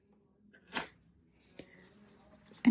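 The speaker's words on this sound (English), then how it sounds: "there's these extra threads here that I'm going to cut" Scissors snip off loose extra threads on a pair of freshly hemmed men's slacks, with a couple of brief, close cutting sounds over near silence.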